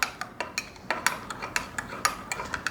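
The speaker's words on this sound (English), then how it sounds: "I'm going to stir that around really good" A spoon stirs instant coffee into warm milk in a cup, giving rapid rhythmic clinks against the sides, about a dozen close taps in a quick steady pattern.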